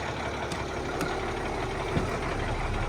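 A new deleted Peterbilt truck engine idles nearby, a steady low diesel rumble with faint ticking, continuous and moderately loud.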